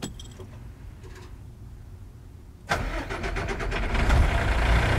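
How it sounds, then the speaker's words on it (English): A Good Roads plow dump truck engine turns over and catches halfway through, jumping from a steady low drone to a louder rough idle that keeps building close by. "we're going to crank the truck up"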